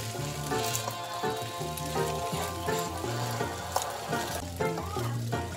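Spinach and tomato stir fry sizzles steadily in a pan, a loud continuous frying crackle with brief stirring clatters over a low background hum, close and without any talk.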